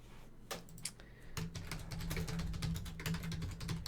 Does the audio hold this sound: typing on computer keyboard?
yes